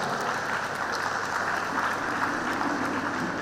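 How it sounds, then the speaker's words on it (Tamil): Steady, dense applause from an audience at a law college Pongal celebration in Erode, continuous and even in loudness with no voices standing out. "கைத்தட்டலாம்"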